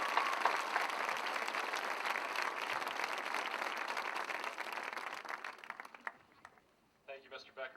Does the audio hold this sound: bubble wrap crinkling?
no